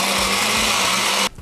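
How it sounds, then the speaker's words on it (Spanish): A blender on its ice-crush setting grinds ice for a piña colada, a loud, dense, rattling roar that runs steadily for over a second and then cuts off abruptly. "tapamos, montamos en la licuadora y Ice Crush."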